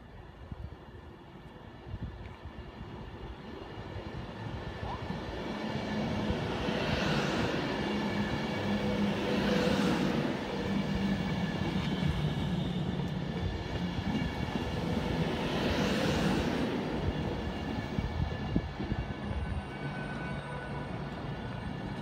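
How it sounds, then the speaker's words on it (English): A Virgin train bound for London Euston pulls into Wigan North Western station with a sustained rumble of wheels and carriages, swelling and fading as cars pass, loud and close on the platform. "Virgin train coming into Wigan North Western. This is for London Euston."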